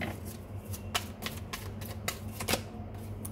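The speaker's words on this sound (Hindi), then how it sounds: "एक कार्ड और लेती हूँ मैं," Tarot cards being handled and drawn from a deck, a run of quick, crisp clicks and flicks at close range over a low background hum.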